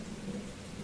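Steady rain pours with a low thunder rumble rolling underneath, a dense continuous wash of storm noise, even and unbroken, with no voices.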